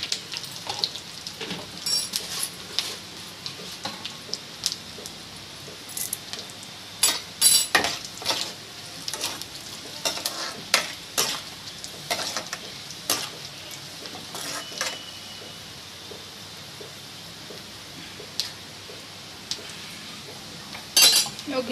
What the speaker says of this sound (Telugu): జీలకర్ర ధనియాలు కూడా కొంచెం ఫ్రై అయిపోవాలి